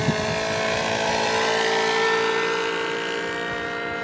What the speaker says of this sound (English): The engine sounds good, though.